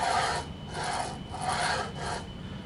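Rails for a plunge router being slid on, making a steady back-and-forth rasping rub repeated in about four even strokes, close and moderately loud.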